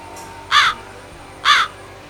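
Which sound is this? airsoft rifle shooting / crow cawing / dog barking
crow cawing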